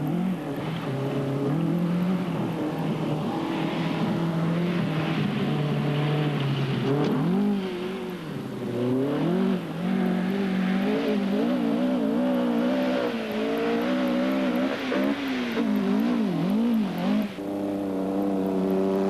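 A two-wheel-drive rally car in the 1985 Paris-Dakar desert stage roars continuously close by, its engine revving up and down through gear changes with no one speaking.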